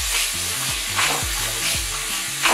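Mixed vegetable soup stirred in a pot, a spoon scraping and swirling through the thick liquid in steady repeated strokes with a light bubbling sizzle underneath, close and fairly loud, no voices.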